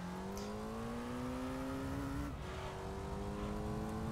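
A Viper GTSR race car engine in the Gran Turismo 3 video game drones steadily at high revs, pitch rising gradually, then dipping sharply at a gear shift before climbing again, loud and alone.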